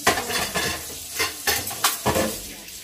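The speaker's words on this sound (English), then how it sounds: "take this plate, just rinse it. Rinse your plate this way." A plate is rinsed by hand: splashing water and rubbing come in short irregular bursts with faint clinks of dishware, fairly close.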